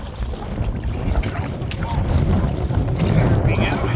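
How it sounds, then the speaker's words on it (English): Strong wind gusting across low water while paddling an Old Town Vapor 10 kayak on the Little Wicomico, a continuous close buffeting roar with splashy water noise throughout. "the wind is blowing"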